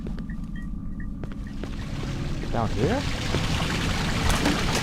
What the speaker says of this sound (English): I hear water.